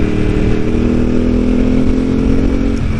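A Ducati 748R motorcycle engine drones steadily while riding, loud and close with a constant low rumble and a smooth mid-range hum, no speech.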